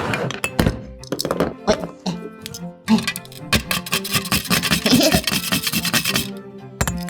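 A Play-Doh toy tomato being grated on a plastic toy grater, giving quick scratchy rasping strokes mixed with light clinks and thunks, close and fairly loud, in irregular bursts with a voice now and then.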